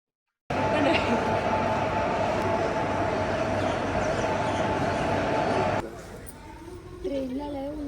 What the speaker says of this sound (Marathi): ट्रेनला लय उलटा सुलटा यायला लागला